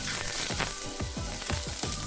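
Chopped tomatoes frying with onions fried light brown, giving a close, even hiss of sizzling with soft rhythmic stirring strokes.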